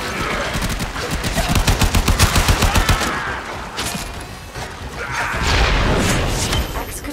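Enemy gunfire in Warframe: a rapid, close burst of automatic shots for a few seconds, followed by scattered impacts and rumbling amid combat noise.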